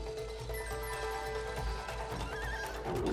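A horse neighs in the video game It Takes Two, a loud whinny over a low rumbling game soundtrack with faint clip-clop beneath, and no voices.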